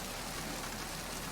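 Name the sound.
rain in video game Metal Gear Solid 2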